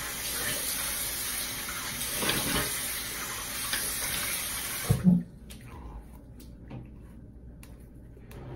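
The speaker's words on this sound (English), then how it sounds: "Cool water rinse off." Running water pours steadily from a tap for about five seconds, rinsing after a shave, then shuts off with a brief clunk, leaving quiet room noise.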